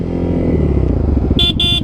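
Two short motorcycle horn honks blare over a loud, close engine rumble during a drag race on a Yamaha MT-15, the second honk slightly longer.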